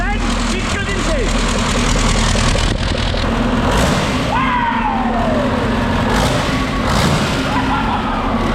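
Scania V8 engine fitted in a Volvo FH truck, caught at its first start and running with a steady low idling rumble, while people cheer and shout loudly over it throughout.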